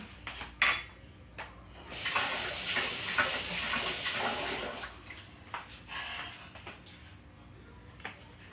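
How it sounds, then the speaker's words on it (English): White distilled vinegar poured into a container, a steady close liquid splash running for a few seconds after a small clink, then fading into faint handling noises. "Now you pour in 1/4 of a cup of white vinegar."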